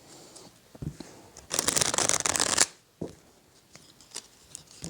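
A deck of oracle cards is shuffled by hand: a few soft card flicks, then a dense two-second riffle-like rush of papery flutter, followed by quieter handling taps.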